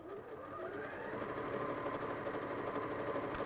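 A sewing machine with a thread cutter runs a steady quarter-inch seam joining tweed strips for a bag, a close, continuous mechanical whir with a fast stitching rhythm and no talk.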